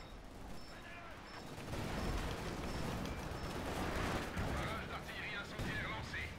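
Artillery shelling in Company of Heroes 2, a dense continuous rumble of distant explosions and gunfire that swells and stays heavy throughout, without clear speech over it.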